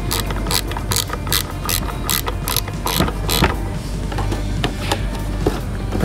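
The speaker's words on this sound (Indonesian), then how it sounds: "kita kencangkan lagi baut spoolnya, nomor spoolnya" Bolts being tightened on a Denso waterproof snail horn with a ratchet, loud sharp repeated clicks in quick bursts, close and alone.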